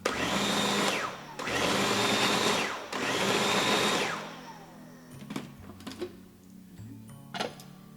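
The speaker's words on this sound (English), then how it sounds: "We're going to just blend that together quickly." Blender whirring through black bean brownie batter with canola oil in three short loud pulses, each a rising motor roar, followed by quieter clinks and handling noises.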